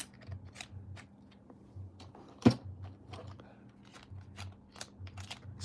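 Scattered clicks and soft key taps on a computer keyboard during a Las Vegas coin livestream, quiet and irregular with one sharper knock, over a low steady hum.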